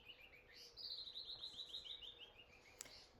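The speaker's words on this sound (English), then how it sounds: "Some beautiful birds here." Outdoors in Mexico, a bird gives a fast run of bright, evenly spaced chirps that rise then slowly fall, fairly faint over a soft background hush, with no talking.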